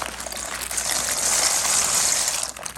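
Dry shell pasta poured from a bag into a pot of boiling water in a home kitchen, a steady rushing, bubbling pour that swells and then tapers off near the end.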